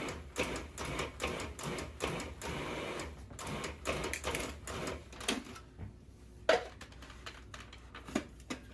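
A food processor pulses butter into flour for scone dough, making a series of short, rough bursts of chopping and rattling in the first half, then quieter scattered clicks and knocks.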